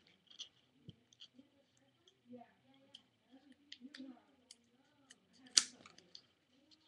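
Scissors snipping paper in short separate clicks and crisp cuts, quiet and close, with a soft voice murmuring between the cuts.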